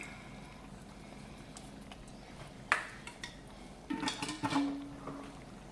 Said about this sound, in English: I'm just gonna stir it up, let these vegetables and stuff cook.